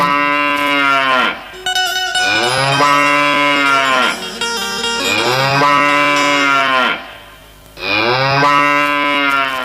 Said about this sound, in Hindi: गाय शिलार मारे तालाब के किनारे में।